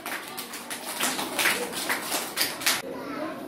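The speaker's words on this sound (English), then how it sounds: "Excellent. Excellent. Clap." Children clap their hands in a quick run of roughly ten sharp claps during a classroom fruit-naming lesson, close and fairly loud, with some children's voices mixed in.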